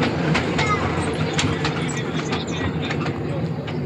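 A fairground ride train at a Kaliakair industrial and trade fair runs with a steady rumbling clatter and repeated clicking knocks, heard from on board amid loud crowd noise.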